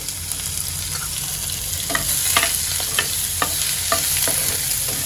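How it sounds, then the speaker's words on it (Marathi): Sliced onion fries in hot oil with cumin and asafoetida in a pan, a steady dense sizzle broken by intermittent scraping stirs of a spatula, close and loud with no talking. "कांद्याला चांगला फ्राय करून घेते मी तेलामध्ये"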